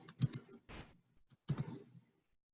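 A computer keyboard typed on in a software help center search box gives two short bursts of quiet, close key clicks separated by a brief pause, with no talking.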